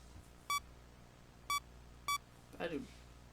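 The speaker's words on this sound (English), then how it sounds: "That beeping noise is so annoying." Three sharp electronic beeps sound at uneven intervals over a low hum, followed by a brief burst of voice.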